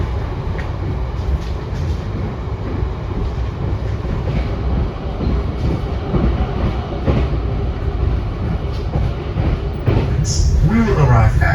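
The Argo Merbabu passenger train rumbles steadily along the rails between Jakarta and Semarang with a continuous low roar and faint rhythmic clacking, while someone talks over the noise.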